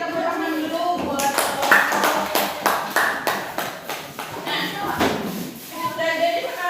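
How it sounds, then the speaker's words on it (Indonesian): A classroom group claps together in a fast, evenly spaced rhythmic pattern of sharp claps, with voices in the room around it. "Oke, kita kasih tepuk tangan dulu buat"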